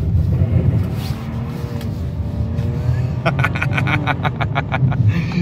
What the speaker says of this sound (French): Un petit drift.